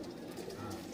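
Home cross-breed pigeon cooing steadily at a loft, a low continuous murmur throughout the short stretch, fairly close and alone without talk.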